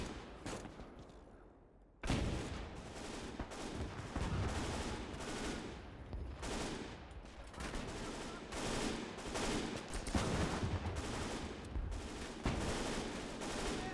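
Battlefield gunfire in the video game Gates of Hell, a dense, continuous stream of rifle and machine-gun shots with heavy bursts throughout, loud and close, after a quieter opening moment.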